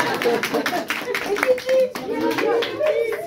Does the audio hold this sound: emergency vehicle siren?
no